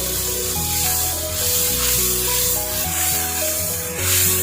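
Tomatoes frying in a pan for mutton liver masala, a steady close sizzle and hiss running throughout beneath loud background music, with no talk.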